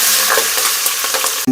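Green chillies go into hot oil with browned chana dal and urad dal in a pan, a loud close dense sizzle and crackle throughout, steady and unbroken, ending in a brief clatter.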